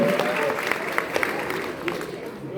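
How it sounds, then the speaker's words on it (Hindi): Applause from an audience, a steady broadband patter of many hands with a few sharper claps standing out, moderately loud. "एक बार जोरदार तालियां बजा दीजिए हमारे सभी स्टूडेंट्स के लिए"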